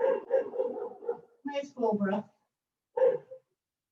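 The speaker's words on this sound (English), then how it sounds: "Sorry if you can hear the dogs, apparently there's FedEx outside." Household dogs bark at a delivery outside, a few sharp intermittent barks and yips mixed in with a calm voice speaking, moderately close indoors.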